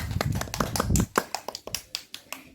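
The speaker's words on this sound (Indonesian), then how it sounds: "tepuk tangan, tepuk tangan" A few people clap hands at a Barongan performance gathering, quick irregular claps that thin out into a slower scattered rhythm, close and moderately quiet, with some voices early on.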